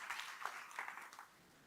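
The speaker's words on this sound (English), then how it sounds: "can you give yourself a clap and take your seat?" Audience applause at a business summit, a dense patter of many hands clapping for about a second and a quarter before cutting off to quiet room tone.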